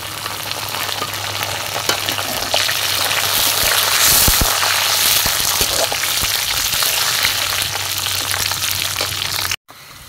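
Cardamom, whole garlic and bay leaf fry in hot oil with a loud, continuous sizzle and crackle. Occasional stirring knocks sound close by before the sound cuts off briefly near the end.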